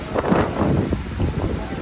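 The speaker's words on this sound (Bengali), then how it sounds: "প্রচুর বাতাস" Strong sea wind on Saint Martin's Island buffets the microphone in a gusty, rumbling roar, with a voice faintly talking beneath it.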